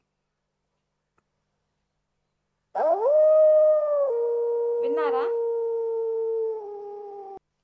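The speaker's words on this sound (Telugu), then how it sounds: "ఇది వుల్ఫ్. ఎలా అరుస్తుందో తెలుసా మీకు?" A wolf howls in one long, loud, steady tone that rises and then holds, heard alone with a short wavering break partway through, after a few seconds of silence.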